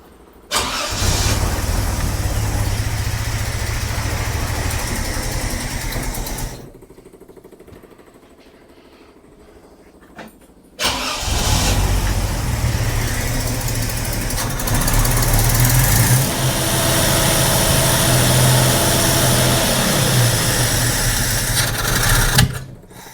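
A car engine idles steadily after a Weber carburettor swap, its loud running broken by a quiet gap of several seconds before it resumes just as strongly and continues to the end.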